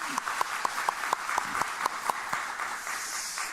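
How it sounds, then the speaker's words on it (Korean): Church congregation applauding at a Friday evening worship service, steady rhythmic clapping with sharp individual claps that thin out toward the end, heard at moderate distance in a reverberant hall. "박수 한번 더 하겠습니다"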